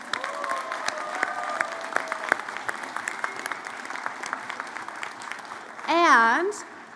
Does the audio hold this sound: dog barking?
no